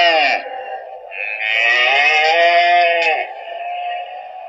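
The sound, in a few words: mother cow and calves mooing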